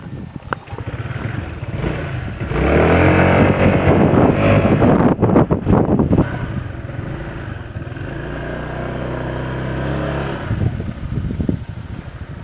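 A Skygo Bolt 150 motorcycle on a test ride, its engine rising into a sustained drone under heavy wind buffeting, then easing back, with no talk.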